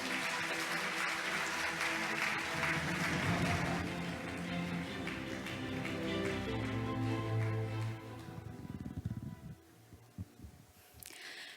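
Conference audience applauding to welcome a vice minister of foreign affairs at the opening ceremony of an international development aid meeting in Seoul; dense steady clapping over a low hum for about eight seconds, then thinning out and fading.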